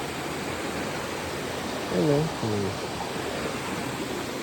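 A fast-flowing mountain river after rain, a steady broadband rush of water filling the scene with no change in level, and a short spoken exchange partway through.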